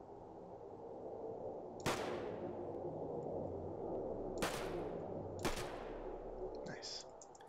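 Three sharp, loud gunshot bursts from a machine gun crack out at intervals over a steady low ambient hum in the grim survival game DetoNation, with no other sounds around them.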